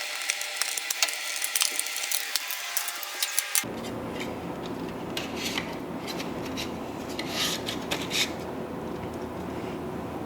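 Small screws being undone on a laptop during an upgrade, a run of close, quiet ratcheting clicks and scraping turns. It shifts to a rougher, busier texture partway through.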